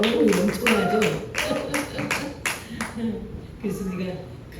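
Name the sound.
congregation applauding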